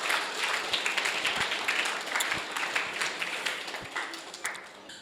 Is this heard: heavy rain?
no